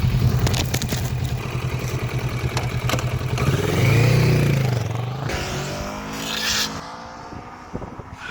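Kawasaki Vulcan S 650 motorcycle being ridden, engine droning steadily with a rising, swelling rev midway, plus wind buffeting and clatter, loud and close.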